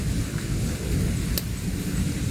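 Steady heavy rain pours down with a dull low rumble of thunder beneath it, loud and continuous with no voices.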